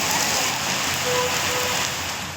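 Heavy wind-driven rain pours down in Mysuru, a dense, continuous hiss of drops striking surfaces, steady and fairly loud with no voices.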